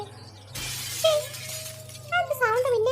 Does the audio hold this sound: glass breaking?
yes